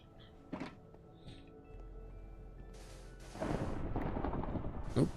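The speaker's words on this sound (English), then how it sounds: "Oops, some lightning going on." Thunder from a lightning strike in Minecraft: a sharp crack followed by a loud, broad rumble that swells and rolls on for several seconds.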